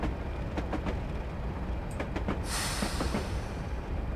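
An old locomotive idling as it runs downhill on the West Highland Line in Train Simulator 2021: a loud, constant rumble with faint rhythmic clacks and a brief hiss near the end.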